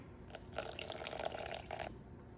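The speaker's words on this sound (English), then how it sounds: "I'm gonna add 350 grams of warm water." Warm water, 350 grams, poured into a bowl of sourdough starter mix, a short close splashing pour of about a second and a half that starts and stops abruptly, with no talking.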